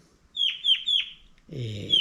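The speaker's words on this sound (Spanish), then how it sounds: "Son dos parejitas, después hay dos zorzales." Thrushes in the Córdoba hills: three quick descending whistled notes in a row, then a brief rougher call and another whistle, close and clear over a quiet background.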